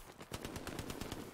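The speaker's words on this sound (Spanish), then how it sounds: "Ahí ya sonan tiros." Rapid automatic gunfire from the World War II video game Hell Let Loose: a steady burst of about ten evenly spaced shots, sharp and moderately close, with no voices.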